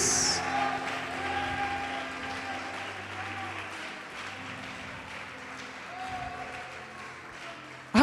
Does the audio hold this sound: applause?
yes